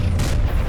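A fiery Incendio spell blast erupts in Hogwarts Legacy, a loud, dense booming burst with heavy low rumble sustained through the short moment, no voices present.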